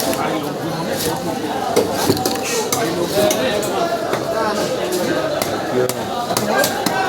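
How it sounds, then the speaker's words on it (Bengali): A large Shankar fish, around thirty kilos, being cut up with a knife, giving steady clattering chops and metallic scrapes amid busy market noise, with voices talking throughout. "কাটছে বিশাল সাইজের শঙ্কর মাছ"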